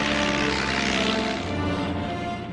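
Propeller-driven WWI monoplane fighter in flight, a loud, close, continuous engine roar with buzzing propeller tone that thins and eases slightly toward the end, no voices.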